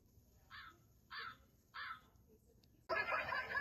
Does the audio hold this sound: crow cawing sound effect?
yes